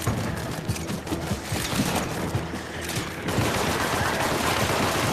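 Rapid video-game gunfire rattles in dense, continuous bursts, loud and close, growing heavier and fuller after about three seconds with no let-up.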